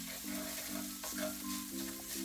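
Tofu seasoned with turmeric, salt and pepper sizzles in a frying pan for vegan fried rice while being stirred, with a steady close fry hiss and a low periodic hum pulsing underneath.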